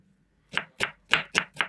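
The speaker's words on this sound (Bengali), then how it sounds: "পেঁয়াজগুলোকে কুচি করে নিচ্ছি সবগুলোকে" Onions are chopped with a knife while a Bengali-style egg dish is prepared. There are five crisp, evenly spaced chops close by, with no talking.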